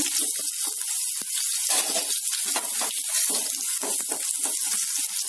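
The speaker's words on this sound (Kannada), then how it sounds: "ಸ್ವಲ್ಪ 1 ನಿಮಿಷದಷ್ಟು ಚೆನ್ನಾಗಿ ಫ್ರೈ ಮಾಡ್ಕೊಳ್ಳಿ" Garlic, green chilli and onion crackle in hot ghee, a dense bright continuous sizzle with scattered pops, close and steady with no talking.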